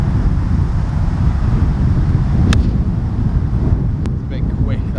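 Strong wind roars steadily across an open golf practice ground, a loud constant broadband rush buffeting the microphone, with a couple of faint sharp ticks.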